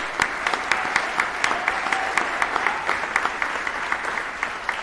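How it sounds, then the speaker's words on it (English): Audience applause in a concert hall at an international classical strings competition finals, a steady wash of many hands clapping with sharper individual claps standing out, moderately loud and continuous with no speech over it. "Can I have a round of applause for these people,"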